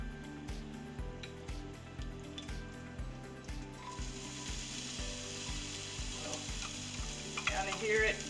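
Oil sizzles steadily in a pan on an electric stove, a soft continuous frying hiss with faint rhythmic scraping and clicking underneath, fairly quiet and close.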